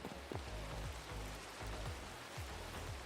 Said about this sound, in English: Rain, go away.